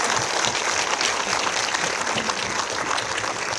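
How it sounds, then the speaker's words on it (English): A lecture audience at an evening archaeology talk about Stone Age Star Carr claps in a dense, even burst of applause, close and full, lasting a few seconds without speech. "Big round of applause."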